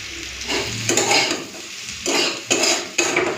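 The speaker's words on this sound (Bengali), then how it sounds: "এদিকে পেঁয়াজ কলি আর আলু ভাজা হয়ে গেলেই ডালটা সাঁতলে নেব।" Spring onion and potato frying in a pan, a sizzle running underneath as a spatula scrapes and stirs in several distinct strokes, loud and close, with no voices.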